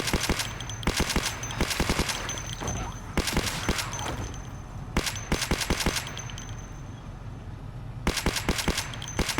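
Heavy automatic gunfire from big guns in the Project Zomboid video game rattles out in rapid, repeated bursts with short pauses between them, loud and close throughout.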